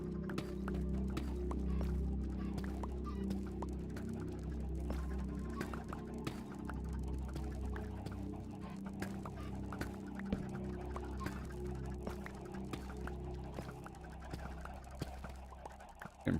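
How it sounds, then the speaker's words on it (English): Chickens cluck in the video game Minecraft as scattered clicks and short calls over a continuous low rumble of game ambience, with no speech. "I can hear the chickens."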